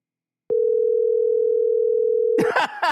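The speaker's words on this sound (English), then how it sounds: "Yeah, he's not picking up the phone." A telephone line gives a long, loud, steady tone while a call goes unanswered. The tone holds for about two seconds, then voices cut in just as it stops.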